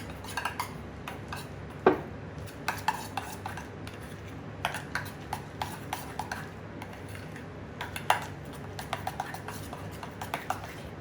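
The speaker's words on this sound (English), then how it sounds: "let's start mixing all the ingredients together" Pasta dough ingredients being mixed in a bowl, heard as scattered clinks and scrapes of a utensil against the dish, some sharper knocks standing out over a low steady background, with no talking.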